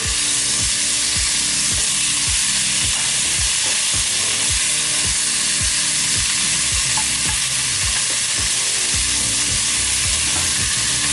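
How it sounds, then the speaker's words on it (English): Onions and carrots fry loudly in a pot with spices and oil, a steady close sizzle broken by regular scraping stirs throughout. "Now what we're going to do is add our vegetables right into this pot."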